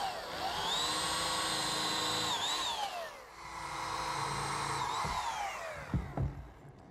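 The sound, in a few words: power drill pre-drilling screw holes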